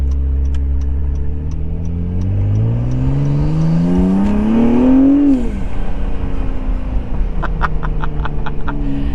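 A modified 2017 Acura NSX engine revs up to about 4,000 RPM with a rising turbo spool whine, then drops back, loud and close, with ticking clicks at the start and end and no voices.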